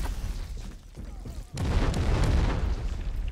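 A grenade goes off in the Delta Force video game, a single loud, broad boom midway that lingers as a rumbling wash after a quieter stretch of faint battle noise.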